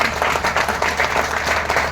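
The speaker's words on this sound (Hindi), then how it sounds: "एक बार इनके लिए जोरदार तालियां बजाएं।" Loud, enthusiastic applause from an audience, close and energetic, with rapid overlapping claps throughout the short burst.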